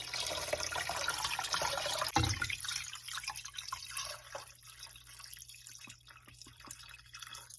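Water streams into a pot holding a chicken carcass for stock, a steady rushing pour that cuts off partway, leaving scattered drips and small splashes close by.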